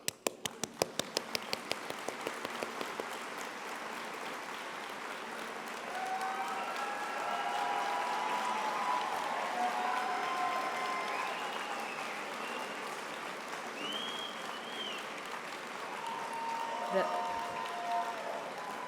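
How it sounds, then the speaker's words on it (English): Audience at a university commencement ceremony applauding magna cum laude graduates: a few sharp single claps at the start, then sustained, dense applause throughout that swells slightly near the end, with faint cheers and voices mixed in. "These students, we can clap."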